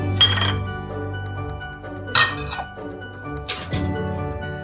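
Semolina tipped into a glass mixing bowl for an eggless cake, with three bright clinks of a utensil against the glass spaced a couple of seconds apart, close and fairly loud, with a soft pouring rustle between them.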